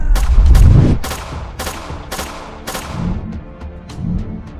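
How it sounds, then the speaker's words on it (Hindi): A blasting gun fires in a rapid burst of loud, close shots with sharp cracks and ringing tails, starting with a heavy boom and then continuing as spaced, repeated blasts. "फातिमा ब्लास्टिंग गन से फायर करने लगती है"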